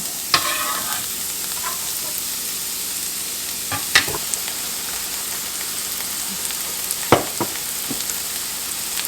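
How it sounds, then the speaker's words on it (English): Onion sautéing in melted butter gives off a steady, close sizzling hiss. A few sharp utensil clicks and scrapes break through now and then, and no one speaks. "Put in some butter and let it start melting. Go ahead and add the onion."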